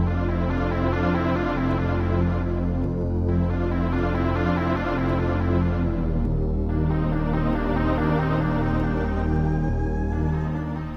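An early version of a Deltarune track plays as a steady, full instrumental with sustained harmonic tones and a bright melodic line, continuous and loud throughout.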